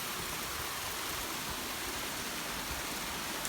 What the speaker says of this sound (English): I like to open the windows when it rains.